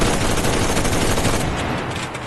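An MG34 machine gun fires a dense, sustained burst in the game Enlisted, loud and close, with rapid overlapping shots and no voices.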